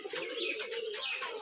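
Many Giribaz pigeons on a Rajshahi pigeon farm coo together in a steady, overlapping chorus, a close, continuous murmur of soft burbling calls with no talk.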